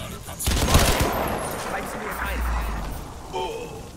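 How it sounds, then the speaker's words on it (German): Bursts of gunfire from the video game Crysis 2 crackle in a busy firefight, loud and layered with a deep low rumble midway, while someone talks over the shooting. "Und der Beschuss!"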